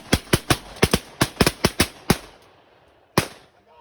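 Shotgun blasts during an afternoon hunt for big resident geese: about ten sharp, loud reports fire in a rapid, uneven volley, then a pause and one last shot, with no talking in between.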